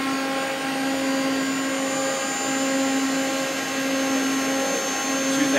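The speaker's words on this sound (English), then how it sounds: "the live tool is currently running right now at 1000 RPM" A Mori Seiki CL-153M CNC turning center with live milling, built 1999, runs its live tool at 1000 RPM, giving a steady, moderately loud tonal hum and whir with constant machine noise and no voices.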